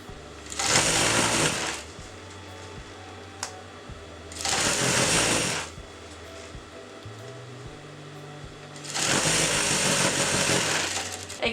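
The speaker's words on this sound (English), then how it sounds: "Now I'm sewing it the outer part, which is very important." A sewing machine stitches fabric for a kameez in three loud, close bursts of rapid whirring, separated by quiet pauses with small clicks as the cloth is adjusted.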